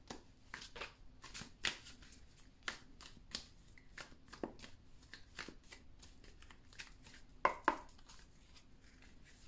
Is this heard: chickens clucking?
no